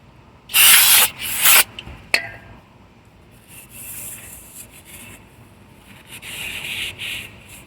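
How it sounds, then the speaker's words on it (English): Brake cleaner sprayed onto a rear brake rotor in two loud hissing bursts, followed by a sharp clink and then soft rubbing as a cloth wipes the metal surface, close up. "it's advisable to use the brake cleaner to wipe off any lubricants you have on it"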